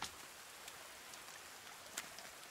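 Rain in the survival video game The Forest, a soft steady patter with faint scattered drops, fairly quiet and continuous with no voices.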